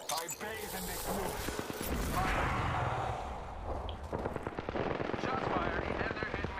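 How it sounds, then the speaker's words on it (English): Video game gunfire rattles in rapid bursts and scattered shots, loud at first and again toward the end, mixed with voices talking throughout. "Shots fired."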